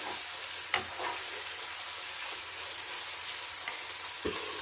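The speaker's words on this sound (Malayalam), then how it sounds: "ഇച്ചിരി വഴട്ടിയിടുന്നു, വറുത്തല്ല" Onion and tomato sautéing in a pan for a crab curry, an even, close sizzle with a couple of sharp spatula knocks against the pan, no talk.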